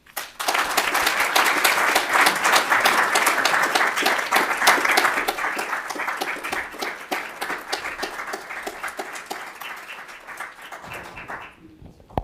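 An audience applauds to welcome a lecturer, Professor Claudrena N. Harold, as she takes the stage, with steady, dense clapping from a full room that gradually thins and fades out at the end.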